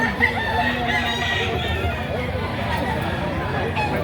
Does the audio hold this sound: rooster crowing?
yes